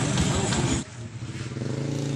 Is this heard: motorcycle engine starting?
yes